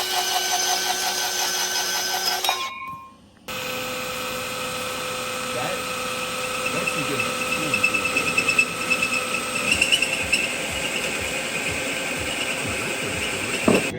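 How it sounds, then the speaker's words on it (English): A power tool cuts a hole through a Miata bumper, a loud sustained whining grind with a brief dropout, followed by a steady buzzing cut broken by sharp knocks as people talk over it. "cut a hole through the bumper."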